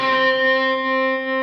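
A Squier Affinity Telecaster electric guitar rings out through a reverb effect, one sustained chord holding bright and clear and slowly fading, with no one speaking.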